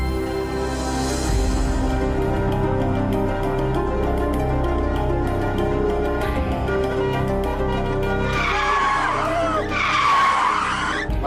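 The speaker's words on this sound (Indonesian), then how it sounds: "Ngebut banget sih ini mobil." A speeding car's tires skid and squeal over a steady engine roar, with a loud, sustained screech building toward the end and no talk.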